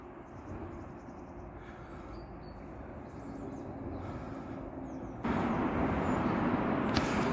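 Traffic on a major road running overhead across a wooded valley near Bristol, a continuous distant roar that gradually builds, then jumps louder as a vehicle passes close.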